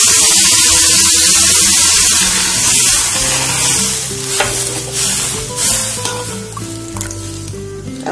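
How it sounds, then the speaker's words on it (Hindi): A full glass of water hits hot spice masala in a pan for a snack gravy, bursting into a loud hissing sizzle that slowly settles into a bubbling, crackling simmer, close and continuous with no talking. "इतने मसाले में हमें पूरा 1 गिलास पानी लेना है।"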